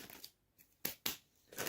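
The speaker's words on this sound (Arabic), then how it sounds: "نفتح الكيس رقم 8" Crinkly plastic rustling as a bag of Lulu cheese snacks is torn open, a few sharp crackling bursts separated by short quiet gaps, close and fairly soft.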